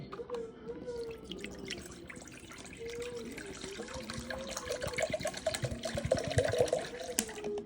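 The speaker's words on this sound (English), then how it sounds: "And I'm just gonna pour that in there and saturate it." Purified drinking water poured from a bottle onto sweet potatoes in a container, a continuous splashing, gurgling pour that grows louder toward the end.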